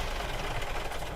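A truck engine idles in American Truck Simulator, a steady, close, low rumble with a slight knocking texture and no voices over it.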